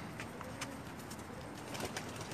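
Pigeons, hatched from eggs brought from Pakistan, released onto a new rooftop loft, giving faint soft cooing and light wing movement against a steady outdoor hiss throughout.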